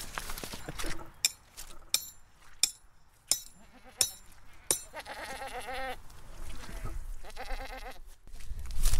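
Goats and sheep bleat in wavering cries amid farmyard noise with chickens, sharp clinks and knocks scattered throughout, at an eco-hamlet in La Bigotière, Ille-et-Vilaine.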